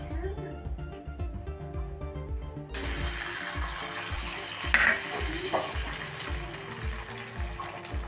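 Eggs poured onto buttered roti on a hot street-food griddle for an egg roll sizzle in a steady broadband hiss that jumps louder partway through, with scraping and clinks over a low background hum.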